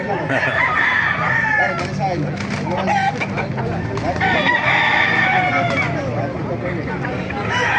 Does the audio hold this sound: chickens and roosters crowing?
yes